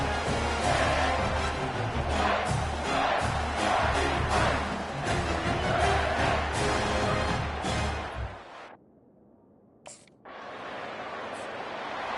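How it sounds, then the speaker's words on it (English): A dense, loud roar from a football stadium crowd in the video game College Football 25 swells steadily for about eight seconds, then drops away abruptly. Quieter noise and a brief burst follow. "listen to this crowd roar"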